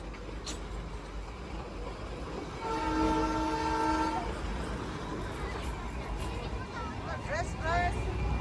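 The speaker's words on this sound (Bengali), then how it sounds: "ওই দেখো টয় ট্রেনগুলো যাচ্ছে।" Darjeeling toy train passing on a busy street, its horn sounding for about a second and a half amid steady street bustle, with people talking nearby.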